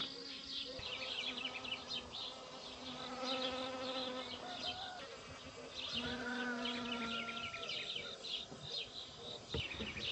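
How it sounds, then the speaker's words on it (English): Honeybees buzz around a backyard garden in a continuous soft drone of many wings, with overlapping insects passing close and fading, and faint bird calls in the background. "Those are all honeybees."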